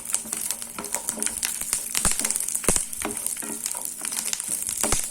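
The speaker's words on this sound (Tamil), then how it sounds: "பூண்டு கொஞ்சம் வதக்கிக்கலாம்." Peeled garlic cloves sautéing in hot oil for a tomato chutney, a steady close sizzle with scattered sharp crackles and clicks of a spoon against the pan.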